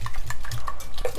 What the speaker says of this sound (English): in my bowl, I'm just going to whisk my eggs